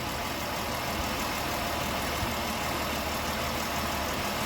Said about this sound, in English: listen to that engine. That sounds really nice, doesn't it?